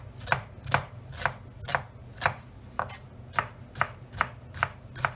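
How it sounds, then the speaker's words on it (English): A knife finely chopping a brown onion on a board, about eleven crisp, evenly spaced close-up chops in a steady rhythm with no talking. "Now we want to try and go for a fine chop."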